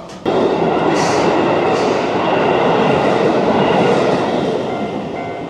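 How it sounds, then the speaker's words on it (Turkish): A train rolls past a crossing in Kyoto, a loud, steady broadband rumble with wheel clatter that holds throughout and eases slightly toward the end. "Trenler geçti."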